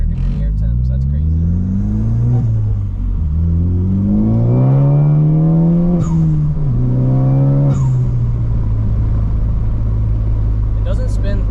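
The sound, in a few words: Porsche car accelerating hard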